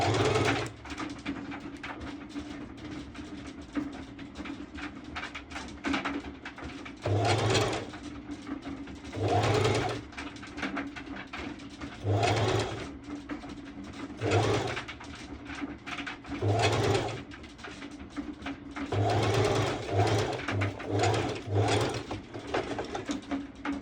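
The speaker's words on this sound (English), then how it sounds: "I love how silent my newest sewing machine is" A sewing machine runs in repeated short bursts of stitching, separated by pauses, with a soft steady hum and faint handling noises in between.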